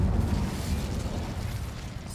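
Incendio fire spell effect in the Hogwarts Legacy video game, a steady rumbling burst of flame with a crackling low roar that holds for the whole stretch.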